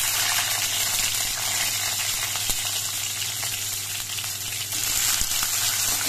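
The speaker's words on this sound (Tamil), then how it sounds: "நல்லா இறுக்கி புழிஞ்சிட்டு இந்த மாதிரி இதில் போட்டிருக்கேன் எண்ணெயில்." Squeezed bitter gourd pieces fry in sunflower oil with a dense, even sizzle and faint crackles. The sound is close and continuous, with no voices.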